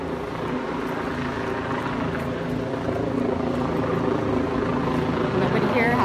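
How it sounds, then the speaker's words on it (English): A helicopter circles above a street protest, its rotor thrum rising and swelling steadily from a distance amid crowd noise. "Helicopter's trying to figure out what the hell we're doing."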